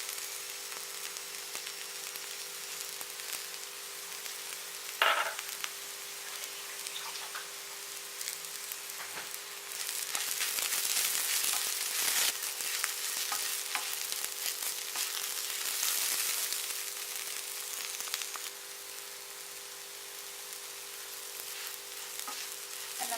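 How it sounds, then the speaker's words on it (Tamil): Okra (lady's finger) frying in a pan with ground masala added, a steady close sizzle broken by scraping stirs and a sharp clatter of the spoon against the pan. "மசாலாவை சேர்த்துட்டு ஒரு 5 நிமிஷத்துக்கு அப்படியே கிளறி விட்டே இருங்க"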